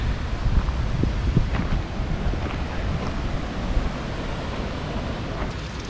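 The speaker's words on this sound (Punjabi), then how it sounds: "ਸਾਹਮਣੇ ਝਰਨਾ ਚੱਲਦਾ ਇੱਧਰ" A waterfall flows beside a trailside cafe on the mountain route from Kareri village, a steady, dense rushing roar close by with no voices.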